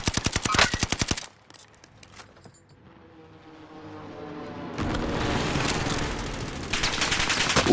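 Rapid automatic gunfire in Call of Duty: Modern Warfare, a loud burst at the start, then quieter in-game background, followed by more sustained firing toward the end, no talking.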